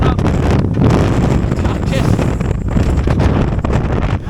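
Loud wind buffets the microphone in a continuous rumbling roar at Funland amusement park on Hayling Island, with a voice faintly buried underneath.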